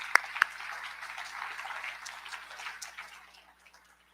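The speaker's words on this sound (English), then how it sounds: "So again, big round of applause to all of our entrepreneurs." Audience applause for entrepreneurs at a national business awards ceremony, a steady mass of clapping with two sharp claps near the start, fading out over about four seconds.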